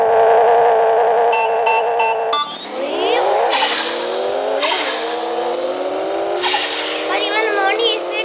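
A car speeding in a racing video game, a continuous synthetic engine whine that rises in pitch through repeated gear shifts, loud and close, with talk over it.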